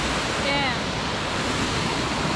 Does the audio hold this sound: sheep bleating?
no